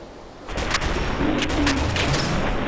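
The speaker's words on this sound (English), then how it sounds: "Give me a shotgun." Shotgun blasts in the Fallout 4 video game, playing a Ground Zero zombie apocalypse mod: several loud, punchy booms in quick succession after a quiet start, with echoing game ambience filling the gaps.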